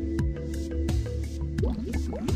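Air and water bursting through an aeration pipe's cleaning valves on an MBR membrane module, a steady close sputter of dripping, squishing and gurgling pulses with irregular splashy bursts.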